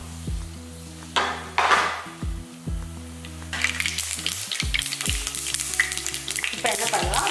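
Mustard seeds and urad dal tempering in hot oil for an egg curry, a bright crackling sizzle that swells in the second half, punctuated by several metallic stirring knocks against the pan, close up with no speech.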